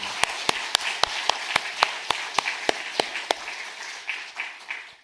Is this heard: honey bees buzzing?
no